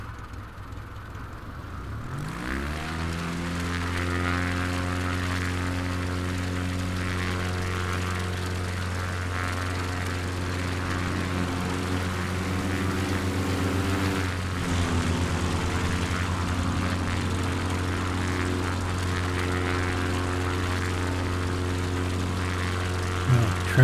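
A propeller plane in Microsoft Flight Simulator 2020 on a Patagonia bush flight spools up after a short quiet start. It settles into a loud, steady droning engine hum with a buzzing tone that holds through the takeoff roll.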